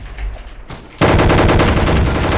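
Gunfire from a gun in the Roblox Gunfight Arena video game: after a brief quieter stretch with a few sharp shots, a loud, rapid, sustained burst of automatic fire erupts and keeps going.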